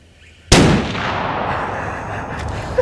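An ArmaLite AR-50 rifle fires a single booming shot at close range, a sudden loud blast followed by a long rolling echo that slowly fades, with no talking.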